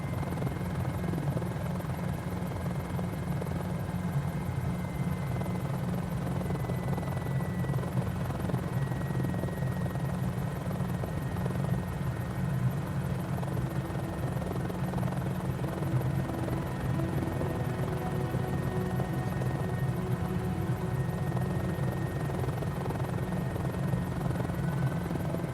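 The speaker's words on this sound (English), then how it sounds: "Oh, there's another helicopter over there." A helicopter flies near a parking lot, its rotor and engine making a steady, loud droning hum that holds without a break from start to finish, with no voices.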